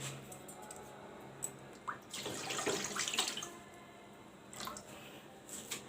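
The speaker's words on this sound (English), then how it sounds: "I'm going to boil some water here." Tap water splashes and runs into a pot set up for boiling while cooking plain vegetable chaumin, a steady close hiss with louder gushing bursts in the middle and near the end, no talk.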